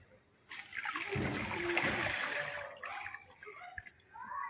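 Rock salt, about one and a half kilograms, is stirred and splashed into water for treating black kavuni rice seed, a sustained sloshing swirl that rises, holds, then tapers into trickles and small splashes.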